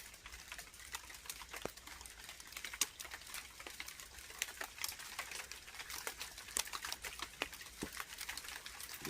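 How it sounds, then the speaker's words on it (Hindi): Rain begins to fall at a supposedly haunted outdoor location at night, heard as faint, irregular pattering drops and light ticks, quiet and scattered but steady throughout. "बारिश पड़ने लगी। बारिश बढ़ गई भाई"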